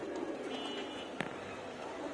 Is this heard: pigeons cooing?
yes